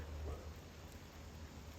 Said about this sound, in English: And it started raining again.